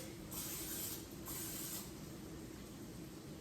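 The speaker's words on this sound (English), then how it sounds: "I have butter flavored cooking spray." A steady hiss of a butter-flavored aerosol cooking spray coating a muffin tin, two short bursts close by, with no talking.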